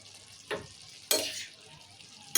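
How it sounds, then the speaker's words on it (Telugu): Tomatoes sizzle in a frying pan for drumstick curry, with three sharp scraping stirs of a spoon bursting over a low, steady frying hiss. "టమాటా ఇట్లా కలుపుకుందాం"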